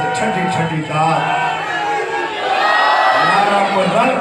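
A crowd of mourners chants slogans in unison at an 8th Muharram majlis in Bhakkar, a loud, continuous mass of voices that swells and grows fuller toward the end.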